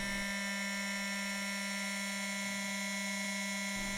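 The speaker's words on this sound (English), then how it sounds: "Turn the battery on, you can hear the whine." In a simulated Piper PA-38 Tomahawk, a steady electrical whine drones at a constant level for about four seconds after the battery is switched on, with a faint click partway through.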